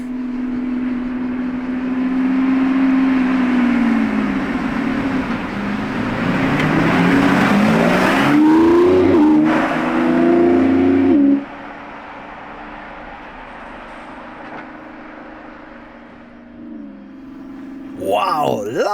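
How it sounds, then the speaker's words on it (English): A Lamborghini Revuelto roars past outside the Lamborghini factory, its loud engine note rising and sweeping in pitch as it nears, then cutting off abruptly and fading, leaving quiet ambience. "Wow, loud Revuelto"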